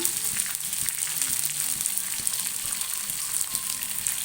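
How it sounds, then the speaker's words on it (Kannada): Rava-coated rupchand fish fries in hot oil, a dense, steady sizzle with faint crackles and occasional soft clinks, continuous and close with no voices. "ನಾನಿಲ್ಲಿ ರವೆ ಫ್ರೈ ಮಾಡ್ತಾ ಇದ್ದೀನಿ"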